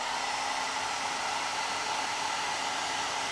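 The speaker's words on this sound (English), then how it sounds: "Let's just hit it with the hairdryer again." Hairdryer blowing on an airbrushed Games Workshop miniature, a steady, even rush of air that runs unbroken and fairly quiet, with no voices.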